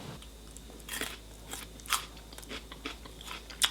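Several crisp, crunchy bites into a ripe Fuyu persimmon, close up in a quiet setting, each bite a short crackling snap followed by softer chewing.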